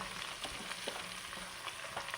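Onion, green chili, ginger and garlic sautéing in oil for chicken curry give a quiet, even sizzle with soft intermittent stirring clicks, heard alone and fairly faint.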